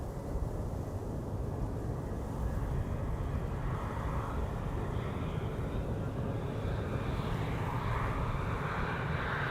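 A KLM Airbus A321neo airliner gives a continuous broad jet roar with a gradual shift in pitch, steady and fairly loud throughout, with no voices.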